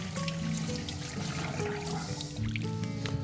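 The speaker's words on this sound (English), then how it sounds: "I submerge my hands in the ice water and then transfer over here and repeatedly do that" Hands dipped and splashed in ice water while stretching hot mozzarella curd by hand, soft sloshing and trickling sounds over a steady background hum and clatter.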